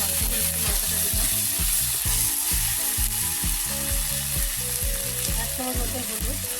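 Ginger and chilli powder sizzle loudly in hot oil in a pan, a dense close crackle that holds steady throughout, with a rhythmic low clatter of stirring beneath it.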